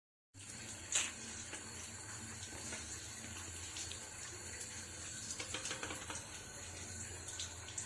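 Water from boiled bamboo shoots pours steadily through a strainer into a sink, a continuous close splashing rush with a brief louder splash near the start and no talk.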